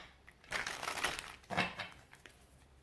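Tarot cards are shuffled in two quick, soft riffling bursts close by, a papery crinkle and slap, quiet overall.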